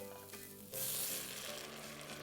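Vegetable stock poured into a hot pan sets off a sudden hissing sizzle that swells and then settles into a steady, bubbling fry, heard close with no talking.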